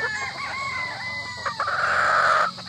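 A Boston Roundhead gamefowl rooster crows once, close and loud, its call rising into a strained, drawn-out final note, with no talk.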